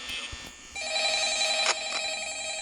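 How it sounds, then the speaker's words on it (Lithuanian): An in-game telephone rings inside a video game, a steady electronic tone with a couple of sharper pulses, moderately loud with little talk. "Vėl man skambina tasai žmogus, kurio aš nesuprantu iš visoje."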